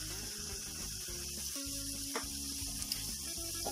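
Ginger and garlic sauté in hot oil in a pan, giving a steady close sizzle and hiss, with a rhythmic low clatter of stirring running underneath throughout.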